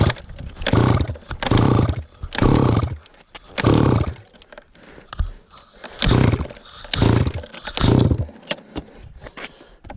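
A 50cc pocket quad engine with a seizing motor revs in repeated loud bursts, rising and falling about eight times while it struggles close to stalling.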